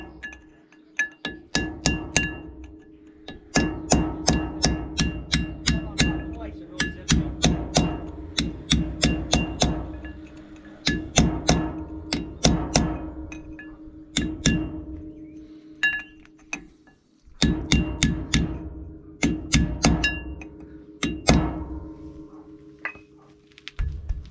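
Metal hammer strikes on the locking flap of a wheel nut on a split-rim wheel of a 1962 Peterbilt 351, sharp ringing clanks in rapid bursts of several blows separated by short pauses, close and loud with no talk.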